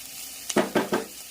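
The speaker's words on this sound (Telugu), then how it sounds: "ఇప్పుడు కాకరకాయలు వేసేద్దాము. ఇప్పుడు రెండు మిక్స్ చేసి ఫ్రై చేద్దాము." Sliced onions and bitter gourd frying together in a pan, a quiet sizzle punctuated by three quick stirring scrapes close by.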